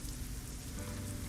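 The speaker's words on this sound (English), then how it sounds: "Now it's raining for me too." Steady rain in a trucking video game during a road train convoy, a continuous close patter with a low engine rumble underneath and no talk.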